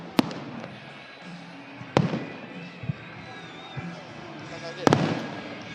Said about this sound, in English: Fireworks aplenty in Salta.